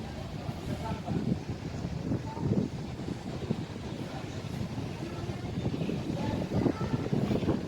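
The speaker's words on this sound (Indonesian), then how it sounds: "Cuaca di Pelabuhan Merak ini angin kencang dan alunnya ada ya." Strong wind gusts roar across Merak harbour in Indonesia, a continuous rumbling buffeting with microphone wind noise that rises and falls throughout.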